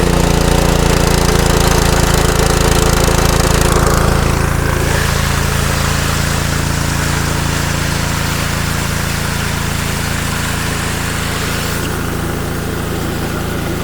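A Honda GX200 engine on a 2700 psi pressure cleaner runs steadily and loudly at close range throughout, with a constant droning hum and no speech.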